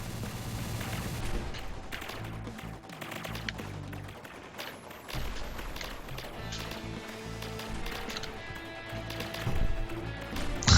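Rapid bursts of gunfire from the shoot-'em-up video game Revolution Ace crackle continuously over a busy, dense mix of game sound, fairly loud throughout with a surge near the end.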